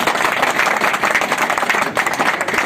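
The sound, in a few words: applause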